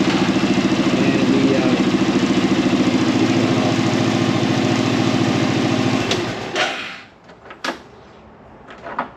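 An Arctic Cat Prowler UTV engine idles steadily and close for about six seconds, then shuts off, leaving a few scattered clunks and knocks in near silence.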